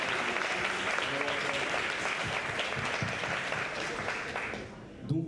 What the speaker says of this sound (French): on applaudit encore une fois leur prestation qui était magnifique